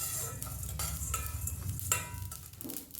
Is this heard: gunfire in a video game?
no